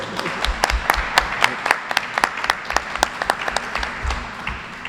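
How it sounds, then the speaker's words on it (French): Applause from a small group at a festival press conference in Montreal, a patter of many claps at once, steady and moderately loud throughout. "Une bonne main d'applaudissement"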